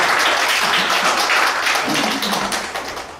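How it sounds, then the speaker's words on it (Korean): An audience at a poetry recitation contest applauds in a dense burst of clapping that fades out over a few seconds. "큰 박수 부탁드립니다."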